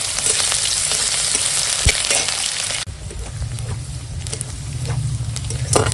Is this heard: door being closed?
no